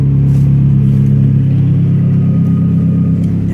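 A Mazdaspeed 3 with a catless downpipe and single-muffler MagnaFlow catback holds a loud, deep, steady exhaust drone close by, engine held at raised revs with slight fluctuation, no talking.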